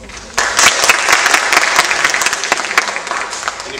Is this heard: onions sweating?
no